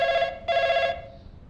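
A telephone ringing indoors, two electronic ring bursts in quick succession, moderately close and alone.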